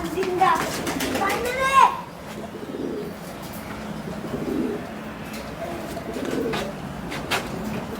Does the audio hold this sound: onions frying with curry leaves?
no